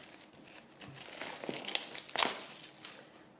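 Packaging of an Oracle de Mercure card deck being unwrapped, soft close crinkling and tearing in irregular bursts that swell to a louder rustle before fading.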